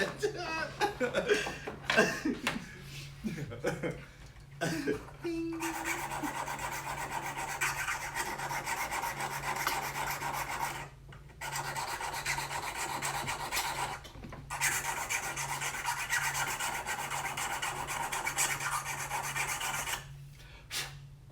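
Long rasping strokes of a file or sharpening tool working a PVC blowgun dart or tube, steady and close, running in several sustained passes with brief pauses, with chuckling and people talking at the start.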